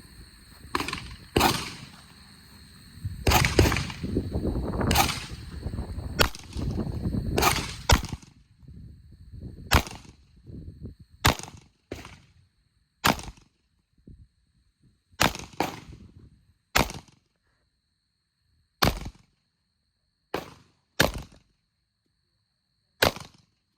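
Sharp pistol shots from a Staccato P fired at a 7-yard target: a quick cluster of loud cracks at the start, then single spaced reports with short ringing tails and near silence between them.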